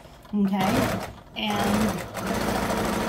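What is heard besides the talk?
sewing machine stitching over elastic on a face mask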